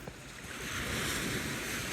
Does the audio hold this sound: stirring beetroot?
no